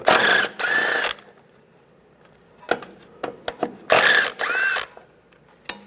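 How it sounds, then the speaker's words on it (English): Ratchet with a 10mm socket removing two bolts while replacing a front strut on a 1997-2001 Honda CR-V, two bursts of fast clicking ratcheting, close and loud, separated by scattered tool taps and clinks. "So use a 10mm socket. Take these two bolts out."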